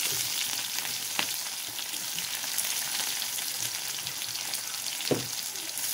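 Chopped onion frying in a pan for a home-style chicken dish gives a steady, soft sizzle throughout, with a couple of brief clinks or scrapes standing out over the hiss.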